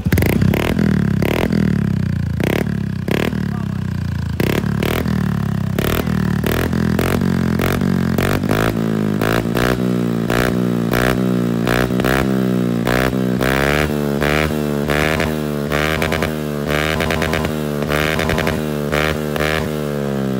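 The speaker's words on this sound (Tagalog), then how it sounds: "naka-full open na siya. Grabe yun. Low RPM pa lang yan mga boss." Honda Beat scooter fitted with an Apido V2 adjustable exhaust set fully open, idling at low RPM with a loud, throaty, pulsing putter that rises and falls slightly, close up with no talking.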